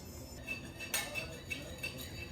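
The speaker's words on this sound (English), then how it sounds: "doesn't everybody love this screeching noise of metal clanging on glass?" Metal cutlery clinks and scrapes against a glass bowl while vinegar and brown sugar are mixed for a glaze, several short bright clinks spread irregularly over a steady kitchen background.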